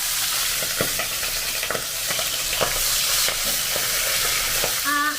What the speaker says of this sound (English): we are frying the fish head